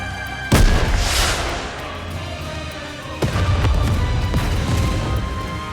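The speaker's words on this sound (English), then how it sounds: "a shell flies from the rocket launcher. And a resounding explosion causes the entire snowfield to be blanketed in thick plumes of white smoke" A rocket launcher shell explodes across a snowfield in the game Nikke: a sharp, loud boom near the half-second mark, a roaring blast rush after it, and a second heavy impact with a sustained rumble later on.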